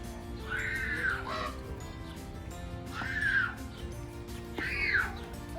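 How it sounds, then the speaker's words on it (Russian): A large common raven in a flora and fauna park calls three times at roughly two-second intervals, each a harsh, nasal croaking caw, fairly close against quiet outdoor background noise. "Здесь черный ворон"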